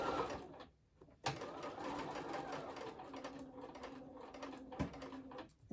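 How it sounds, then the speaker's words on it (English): A sewing machine stitching the long and short sides of a small fabric wallet case a quarter inch from the edge, running in steady bursts with brief pauses and stops, close and clear, with no talk. "So we're going to sew down 2 long sides and 1 short side."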